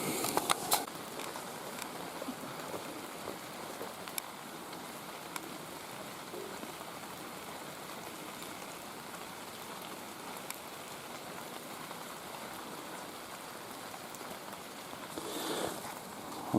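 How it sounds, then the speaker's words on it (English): Rain falls outdoors in the western Washington woods during an elk hunt, a soft, steady patter of drops on surfaces with a few sharper taps near the start and end. "Well, it's raining."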